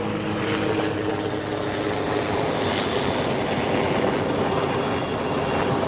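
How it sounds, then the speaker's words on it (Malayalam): A helicopter passes over a deserted coastal town where an old road now lies in the sea, a steady, loud broadband roar with a low droning hum that fills the whole stretch without fading. "ഒരു ഹെലികോപ്റ്റർ പോകുന്നു"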